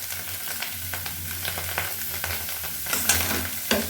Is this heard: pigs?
no